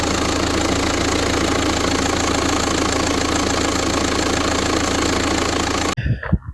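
A 1.9 TDI diesel engine idles smoothly and steadily at close range, a continuous even rumble with no misfires, cutting off abruptly near the end.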